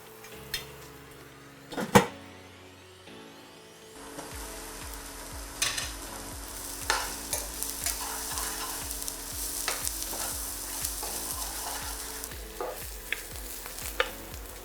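Onions and garlic cook gently in a pan on low heat for chicken liver pâté, giving a soft continuous sizzle with repeated stirring scrapes and knocks, close by.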